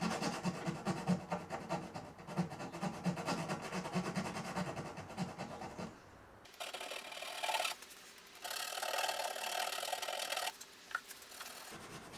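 A file scrapes along the edge of a guitar fretboard during finishing, a close raspy run of short strokes that shifts to a brighter, harsher scraping in longer bursts.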